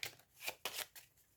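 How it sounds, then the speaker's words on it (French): Tarot cards shuffled and dealt out in a few quick papery riffles and slaps, close and fairly quiet, with no talking. "Je vais quand même recouvrir 2-3 cartes, on va regarder."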